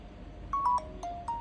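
Nokia tune ringtone playing from a Nokia C10 phone, a short run of clear melodic electronic tones stepping in pitch, fairly quiet and alone with no talk.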